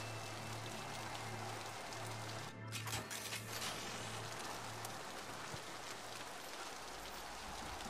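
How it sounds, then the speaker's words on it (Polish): Steady rain falls in the video game Mass Effect 2, a soft continuous hiss with a low hum beneath and a brief louder splash of noise partway through. "No dobra, pada deszcz"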